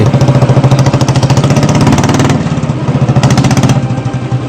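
A Royal Enfield Bullet motorcycle engine runs loud and close, with a steady, fast thumping beat that eases slightly midway and then picks back up, with no voices.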